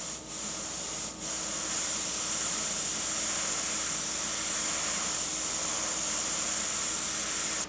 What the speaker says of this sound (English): you can still fade strokes out even with the single action airbrush